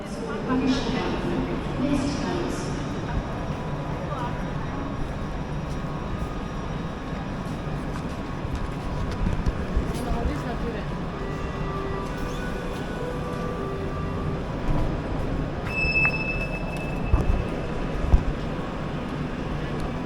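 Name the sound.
riding a metro train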